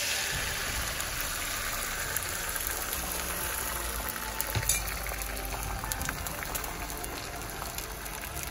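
Egg omelette frying in a little oil with chilli flakes and black pepper, a dense, steady sizzle close by with no pauses and a few brief louder crackles.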